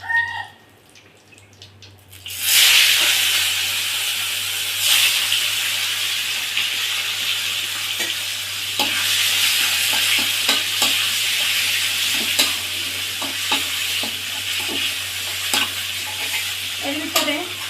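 Boiled taro drops into a hot pan with fried fish head for taro leaf curry, bursting into loud, sustained sizzling after a quiet start, with repeated scrapes and knocks of stirring and no voices.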